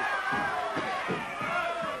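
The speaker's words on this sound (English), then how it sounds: "the crowd going wild here" Pro wrestling crowd in an Australian arena roars and screams without letup, a dense wall of cheering with scattered shouts and thumps rising throughout.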